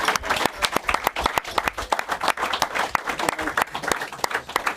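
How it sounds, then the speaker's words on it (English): A crowd at a televised football event applauds, a brisk patter of clapping at moderate volume lasting several seconds, with a commentator's voice faintly underneath. "give him a round of applause, everybody"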